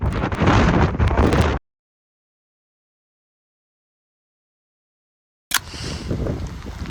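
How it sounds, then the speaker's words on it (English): Gusty wind at a mountain summit on Scafell Pike roars and buffets the microphone close up, cuts to silence for several seconds, then comes back with a sharp thump. "It's a bit windy on there at the top"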